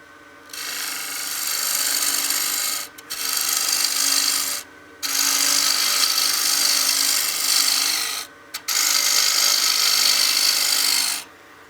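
Wood lathe spinning at about 1600 RPM while a tool roughs out a utility box, giving a loud, steady rasping scrape in long bursts with a few short breaks between cuts.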